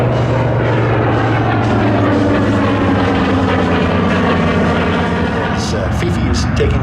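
The B-29 Superfortress Fifi takes off at an airshow, its piston engines and propellers producing a loud, droning roar with steady low harmonics that builds and holds close by.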